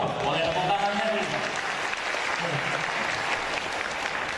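Audience clapping at a vegan health seminar in Jambi, a dense sustained burst of applause filling the room with steady loudness throughout, with a crowd murmur mixed in.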